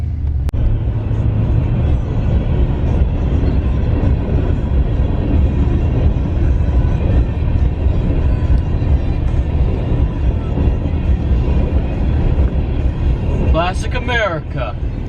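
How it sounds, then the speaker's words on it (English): A train rolls through a small town in America, heard as a steady low rumble close by for the whole stretch, with a faint whine near the end. "Friggin' small town America, train rolling through and everything."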